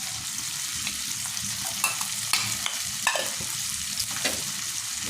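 A paste of garlic, ginger, cumin and cardamom fries in hot oil, a constant close sizzle broken by scraping stirs and occasional clinks of the spoon against the pan, with no talking.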